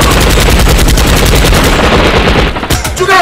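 Rapid bursts of automatic gunfire from a Nigerian action film crackle loud and dense for several seconds. Shots come in fast volleys before thinning out into a few scattered reports, and there is no speech over them.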